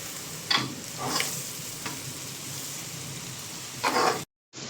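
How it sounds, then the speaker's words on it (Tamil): Onions frying in oil with chilli powder being stirred in, a steady close sizzle broken by a few louder scraping stirs, then a brief cut to silence near the end. "நூற்றி ஐம்பது கிராம் மிளகாய்த்தூள் சேர்த்து நல்லா மிக்ஸ் பண்ணிக்கலாம்"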